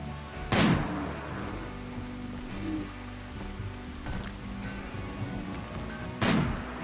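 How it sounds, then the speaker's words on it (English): Gunshots while hunting a Thrumbo in the video game RimWorld, two sharp loud cracks near the start and end with fainter pops between, over a steady rain-like background. "Let's go ahead and shoot us a Thrumbo."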